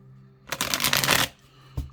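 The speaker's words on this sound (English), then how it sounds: "let's shuffle them up and see." A new collector's tarot deck, the Sacred Bee Tarot, is riffled in the hands, a dense papery rush of cards lasting under a second, then a single soft tap close by.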